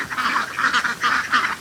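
Rapid, nasal gobbling bursts repeat in quick pulses, a loud turkey calling close by.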